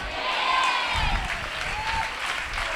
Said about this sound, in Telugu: ఈరోజు చప్పట్లు కొట్టి ఆరాధిస్తుండగా